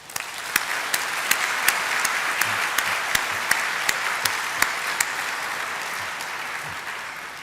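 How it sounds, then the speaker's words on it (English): An audience at the IIT Kanpur 48th convocation gives a resounding round of applause, broad and sustained, with a few sharper, louder claps standing out now and then and no talk over it. "they deserve a resounding round of applause from you"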